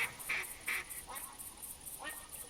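Repeated duck calls from a caller spammed in the hunting game theHunter Classic, a quick series of short nasal quacks in an irregular rhythm over a steady high background tone, clear and fairly close.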